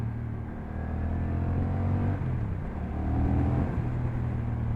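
A 2024 Honda Rebel 1100 motorcycle engine drones steadily and close while the rider shifts gears, the pitch dropping and climbing again with each change. No voices.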